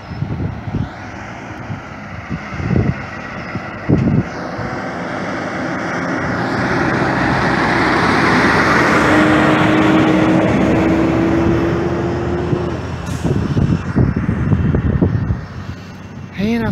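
A heavy truck of about 60,000 pounds rolls past on Michigan Road near Osgood, Indiana, its broad engine and tyre roar swelling loud to a peak mid-clip and then fading, with wind buffeting the microphone and a few thumps.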